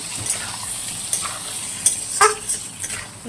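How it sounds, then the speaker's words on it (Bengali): Potatoes sautéing in ghee for a vegetarian aloo dum, a steady close sizzle with a few scraping stirs and light clinks of a utensil against the pan, no voices. "এটা এখন আলুটা দিয়ে ভালো করে কষাবো"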